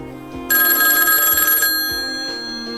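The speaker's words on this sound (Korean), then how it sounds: "또다시 울리는 전화" A single loud, shrill telephone bell rings for about a second over a low background hum, then fades away.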